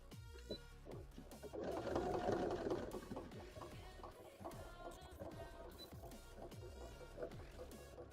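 A home sewing machine stitching with ordinary non-embroidery thread in the bobbin while skipping stitches, a fast mechanical whirring and rattling heard up close that rises and falls in speed.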